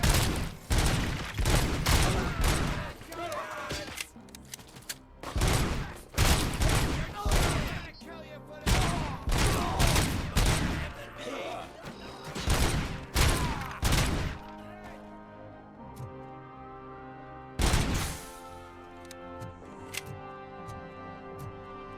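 Repeated gunfire from a gun in the video game Robocop Rogue City, loud bursts of shots in an irregular rhythm with brief pauses, a long gap, then one last burst.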